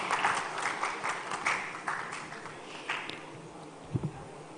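An audience at a tech talent event hall applauds to welcome a speaker onto the stage, a loud burst of clapping that gradually thins out, followed by a couple of soft thuds near the end.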